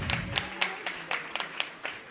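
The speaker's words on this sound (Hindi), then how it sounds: "मंडला से तालियां बजाकर एक बार अनुमोदना कर दें सभी दानदाताओं के लिए" An audience at a Jain sermon by Acharya Vidya Sagar claps for donors, a short run of rhythmic, fairly even hand claps heard close and on its own.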